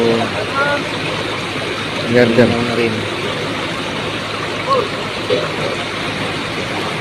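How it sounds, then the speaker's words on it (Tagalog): Water rushes steadily, a broad continuous roar like a strong stream, with people talking over it in bursts. "Ang lakas ng tubig, medyo marumi."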